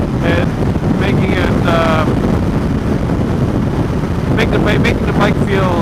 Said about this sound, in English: we have a lot of crosswind, a lot of headwind, crosswind